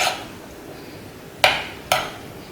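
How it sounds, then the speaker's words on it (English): Two sharp clinks of a utensil against a bowl stand out while pickled vegetables are tossed with sauce, with soft stirring rustle between them. "we're going to mix all the vegetables with the sauce"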